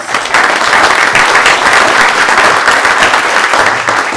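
A room full of people at a town forum in the Stonington Opera House gives a round of applause, thick continuous clapping that swells quickly and carries on evenly, with no talking over it.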